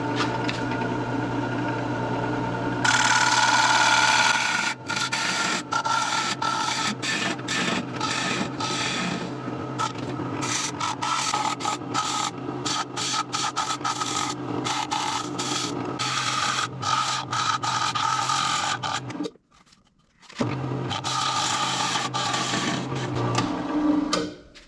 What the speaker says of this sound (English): we're all done with the turning process